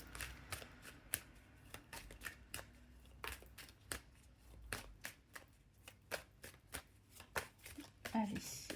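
Tarot cards being shuffled and cut by hand, a run of crisp riffling flicks and sharp taps in an irregular rhythm, close, with a voice talking quietly underneath.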